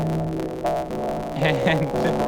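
A buzzy, glitchy Phase Plant granular synth tone with a very short loop length stutters in repeating loops, with droning, hum-like overtones and brief bright chirps near the end.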